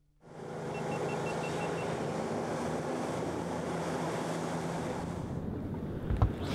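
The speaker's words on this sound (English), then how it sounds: "All we could hear were the crashing waves on the shore" Waves crash on the shore of a remote Andaman island in a continuous broad wash of surf. Wind blows against the microphone throughout, and a brief knock comes near the end.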